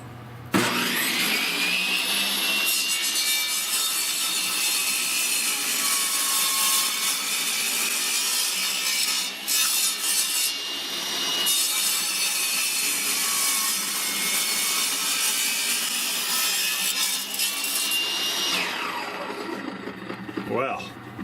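A re-sharpened table or chop saw blade, ground at 15 degrees, cuts steadily through hardwood with a loud continuous whine lasting most of the clip, starting abruptly and spinning down at the end.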